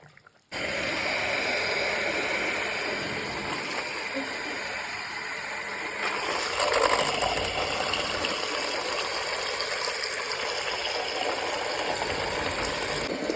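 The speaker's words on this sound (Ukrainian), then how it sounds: "блендер має бути погружний" A continuous loud whirring immersion blender drones for the whole stretch, rising slightly in pitch partway through, a close mechanical buzz with no speech.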